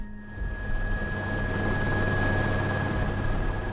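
A support helicopter taking off makes a loud, steady roar with a constant whine, close by and continuous, with no talk.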